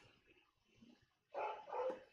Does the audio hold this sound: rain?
no